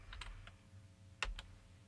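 Typing on a computer keyboard during web design work: a handful of faint, light key clicks over a low background hum, with one slightly sharper keystroke past the midpoint.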